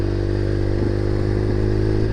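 A 1998 Kawasaki ZX6R sport bike engine drones steadily while riding, a loud continuous buzzing hum with wind noise and slight rises in pitch.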